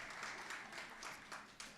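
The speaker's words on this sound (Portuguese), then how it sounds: "Aplauda a pessoa que está do seu lado." A congregation applauding one another in a church service, a steady moderate wash of clapping with a few individual claps standing out near the end.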